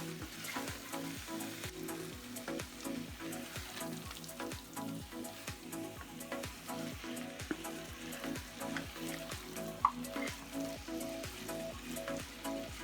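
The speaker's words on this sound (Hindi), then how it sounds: "इसको थोड़ी देर भूनने देंगे।" Chicken curry fries in a pan at home, giving a soft, continuous sizzle with a steady crackle and faint scraping taps from stirring throughout.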